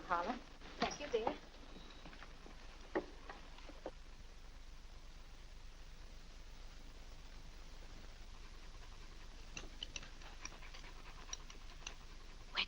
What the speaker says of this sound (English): Where did that dog come from?